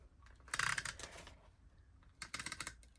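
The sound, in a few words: adhesive tape being applied to planner page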